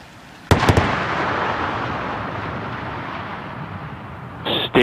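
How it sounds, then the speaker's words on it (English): Twin sonic booms from a returning SpaceX Falcon 9 first stage heading to Landing Zone 1: two sharp, close cracks in quick succession, followed by a long rumbling roar and another pair of sharp bursts at the end. "Twin sonic booms."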